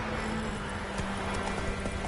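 The horse Roach gallops in a video game, a steady run of hoofbeats under a dense, loud game soundscape with a continuous droning tone.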